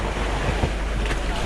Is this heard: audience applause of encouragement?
no